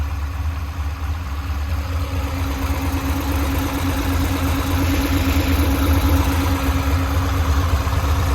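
A 2007 Corvette C6 Z06 with long tube headers, a high-flow catted X pipe and a throttle body upgrade idles loud and close, its deep rumble steady and unbroken throughout.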